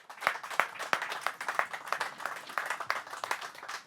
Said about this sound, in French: je vous demande d'accueillir Jean Auffrère sous vos applaudissements